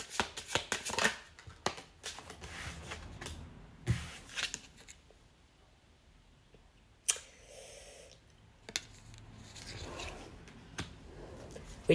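A deck of tarot cards is shuffled in soft bursts of riffling and sliding, with quiet gaps and a few sharper taps between, close and faint with no talking.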